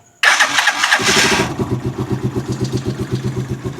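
A cranking whir gives way to an engine catching and settling into a steady, pulsing idle, close and loud, once a loose terminal in the socket has been tightened; no talking.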